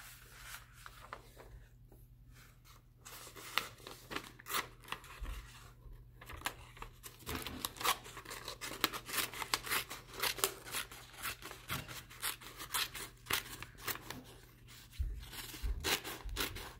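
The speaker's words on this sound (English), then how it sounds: "This is the world's most scissors. Right here. We will be cutting this paper with it." Tiny scissors snip through a sheet of paper in a quiet room, giving soft, crisp clicks and crinkly cuts in uneven bursts, with brief pauses and some faint handling rustle between the snips.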